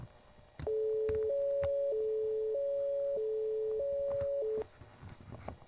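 A synthesized Euro police siren with tremolo, a two-tone electronic wail alternating between high and low pitches in a steady pattern for about four seconds, then cutting off abruptly.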